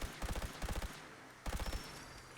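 Handmade laser rifle firing in the video game Fallout 4, rapid bursts of shots in quick rhythmic volleys, a pause, then another burst, fairly quiet overall.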